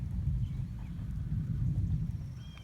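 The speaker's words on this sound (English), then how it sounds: "I guess that's what they call it, rolling thunder." Distant rolling thunder rumbles low and continuously over a rainy pasture near a creek, with soft, light drizzle patter on top and no talking.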